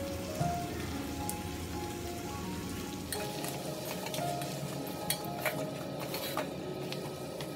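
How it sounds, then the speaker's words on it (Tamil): Onion, tomato, green chilli, coriander and mint sauté for prawn biryani, giving a faint, continuous rain-like crackle of frying with scattered sharp pops and light ticks throughout. "tomato, green chilli, coriander, mint எல்லாமே ஆட் பண்ணிவிட்டு நல்லா வதக்கிடுங்க"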